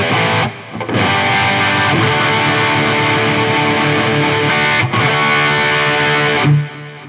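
Electric guitar played through an HX Stomp chain of drive, amp, cab and reverb, heavily distorted sustained chords ringing loud with brief gaps between strums and reverb tails.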